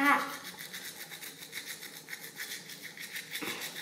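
A toothbrush scrubs a child's teeth in quick, rhythmic back-and-forth strokes, close and steady, while an adult speaks over the brushing.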